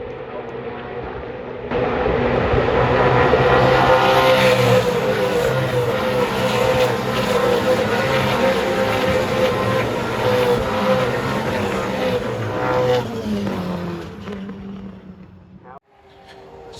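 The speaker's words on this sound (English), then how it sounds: "This footage will give you an idea of the speed as the Dunlop Super Series cars fly across Brock" Dunlop Super Series race cars scream past at speed across Brock's Skyline at Mount Panorama, Bathurst, a loud sustained engine roar for about twelve seconds that fades out near the end.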